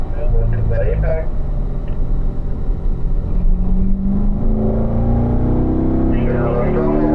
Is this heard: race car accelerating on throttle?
yes